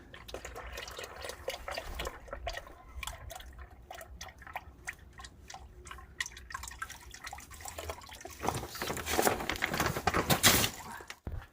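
Hot engine oil drains from a MINI Countryman S 1.6 turbo during an oil change, a steady close trickle and patter of liquid that swells louder toward the end.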